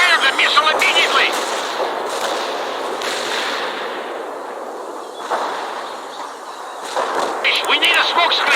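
Missile launch in the real-time strategy game World in Conflict, heard as a sustained roaring whoosh of rocket fire with rumbling blasts, loud and continuous over about eight seconds amid dense battle noise.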